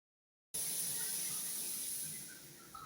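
Shower water running after a gym workout, a steady, close hiss of spray that starts abruptly after a brief silence and holds evenly before easing slightly near the end, with no talking.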